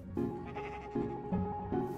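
Sheep bleat in survival Minecraft, several short nasal calls spaced about half a second apart, close and fairly loud over a faint background, with no talk.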